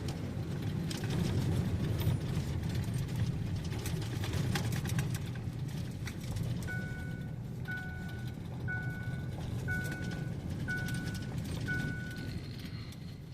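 A 1975 Volkswagen Super Beetle with a manual transmission drives along a country road. The engine hum stays steady and fairly loud throughout, with a faint repeating tone joining in during the second half.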